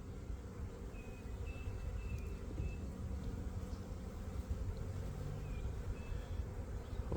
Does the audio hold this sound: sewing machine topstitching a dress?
no